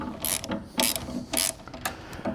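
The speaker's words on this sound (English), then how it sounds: "we just start tightening the bolt" A bolt on an aircraft nose-mount clamp being tightened with a ratchet, giving several quick, close clicking bursts at a steady rhythm, fairly quiet with no talking.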